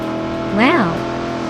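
A 1974 Ford Gran Torino race car in a racing video game: a short rising-then-falling engine whine swells briefly over a steady low drone, like a quick pass or rev.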